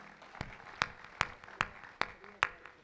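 An audience at a Hindi poetry recitation claps in unison, sharp beats landing evenly about every 0.4 seconds over a faint hum of the hall.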